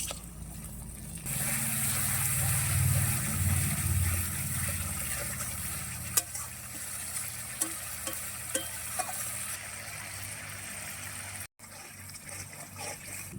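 Sour curd goes into a spice masala frying in a pan. A wet gush and sizzle come first, then steady stirring with scraping and clinks of a spoon against the pan, with no talking.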